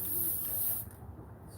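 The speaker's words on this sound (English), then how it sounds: "I'm going to spray over that a little." Spray paint hisses from a can onto a fishing lure tumbler in one steady, close, fairly loud burst that cuts off partway, leaving quieter room noise.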